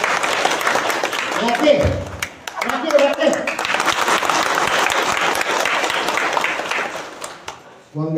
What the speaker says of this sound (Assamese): জোৰকে তালি বজালে